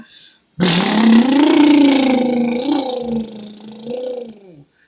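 A man imitates a motorbike engine with his lips: one loud, close, sustained buzzing drone that rises and dips in pitch for several seconds before tapering off.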